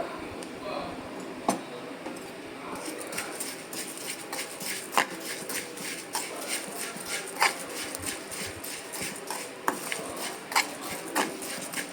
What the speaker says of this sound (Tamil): கைவிடாமல் வறுத்துட்டு இருக்கணும்